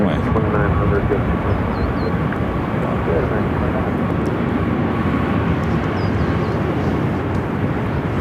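Airliner taking off down the runway at Phoenix Sky Harbor, a loud, steady jet engine roar with broad rushing noise sustained throughout, continuous and close.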